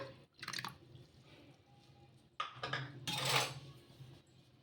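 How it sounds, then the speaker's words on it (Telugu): A spoon stirs semiya dosa batter in a bowl, making a few scraping clinks and wet sloshing sounds, faint and close, with quiet gaps between strokes. "ఒకసారి స్పూన్తో మొత్తం ఈ విధంగా కలిపేసుకుందాం"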